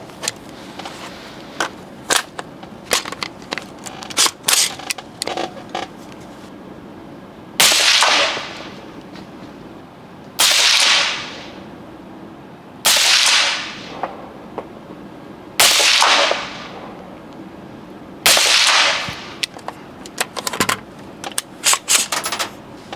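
Rifle fitted with a GPO 1.8-24 optical scope fires at a 100-metre target: a series of about six sharp, loud reports spaced several seconds apart, each with a decaying tail, amid scattered clicks and handling noises.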